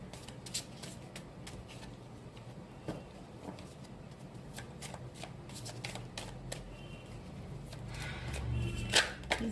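A deck of tarot cards is shuffled by hand in quick, crisp riffling bursts that keep going and grow a little louder toward the end. No one speaks.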